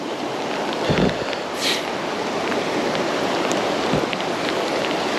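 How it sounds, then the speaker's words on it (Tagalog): Steady heavy rain hisses and patters on surfaces nearby, a dense continuous wash of drops with no voices. "Lakas ng ulan."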